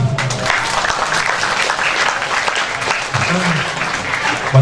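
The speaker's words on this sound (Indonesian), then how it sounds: "Tepuk tangan itu loh." A crowd at an Islamic religious gathering gives loud, dense applause throughout, with a voice briefly audible through the clapping.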